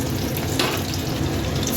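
Tomatoes frying in a pan with chopped green chili, a loud dense crackling sizzle heard close and continuous with no talk.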